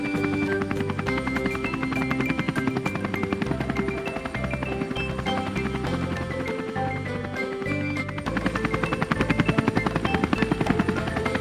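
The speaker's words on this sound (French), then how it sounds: "les hélices de l'hélicoptère n'ont pas arrêté de tourner" Helicopter rotors beat steadily in a loud, continuous thrum, close by, with rhythmic chopping pulses layered over a droning engine tone.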